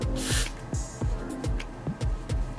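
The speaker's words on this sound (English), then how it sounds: "Let's spray a little bit more on this side." Several short hissing bursts of a spray bottle onto a lace wig, each separated by a pause and followed by faint handling noise, close up.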